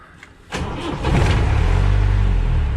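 A Mahindra Maxi Cab school van with the MM540 engine starts up close by: a short crank, then the engine catches and settles into a loud, steady, throbbing idle, with no talk.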